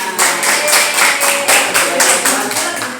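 Whole-room applause at a teacher-training session, with rapid, dense clapping at full volume throughout and faint voices underneath.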